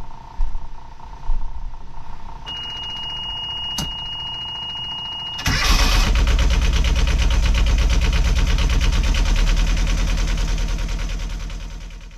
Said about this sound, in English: Now let's go turn the key and crank it up and make sure it starts.